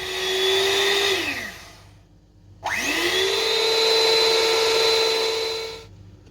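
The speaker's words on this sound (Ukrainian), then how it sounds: "Ви знаєте, міксер мені не сподобався. Летить, усе розлітається" An electric mixer runs in two bursts, whining up to speed, winding down, then starting again for a longer loud steady run before stopping, close by with no talk.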